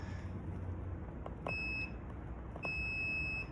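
Two clear electronic beeps from a continuity tester checking a 2002 Ford F-250 horn circuit, each about a third of a second long and high-pitched, sound close by over a low background hum.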